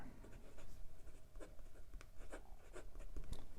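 A stiff fine nib on a Jinhao 100 Mini fountain pen scratches across paper in short, quiet strokes, close up and alone.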